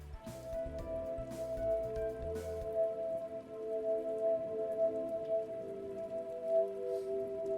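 Steady rain patters on surfaces in the Rain World game trailer, a dense continuous hiss with soft droplet detail and a low musical drone underneath.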